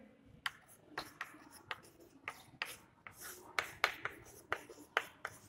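Chalk or marker strokes on a board during a Hindi-medium maths lesson on Euclid's division lemma: a steady series of short, sharp scratching taps in an irregular rhythm, close and moderately loud, with no voice over them.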